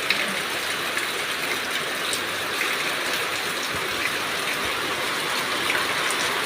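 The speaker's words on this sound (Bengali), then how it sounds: "এই দেখো ঝমঝম ঝমঝম করে বৃষ্টি হচ্ছে" Heavy rain pours steadily outdoors near ducks, a dense, even hiss of falling water that stays constant throughout without pause, and no one speaks.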